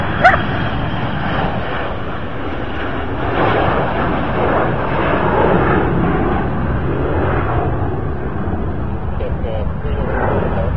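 A Delta airliner taking off from runway 28 at Cherry Capital Airport, a continuous broadband jet roar heard from a distance that holds steady throughout, with a brief sharp sound at the very start.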